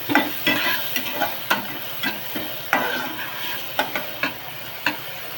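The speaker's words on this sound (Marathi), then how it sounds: "टोमॅटो एकदम मऊ होईपर्यंत भाजायचा" Onion and tomato frying in a pan, a steady sizzle beneath a regular rhythm of scraping stir strokes, close and moderately loud, with no voices.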